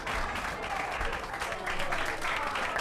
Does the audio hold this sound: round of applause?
yes